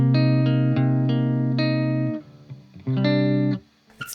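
Electric guitar played through an Orange Micro Dark amp with a compressor pedal, sustained chords ringing evenly and loud, with a brief gap before a final strummed chord and a scratchy pick noise at the end.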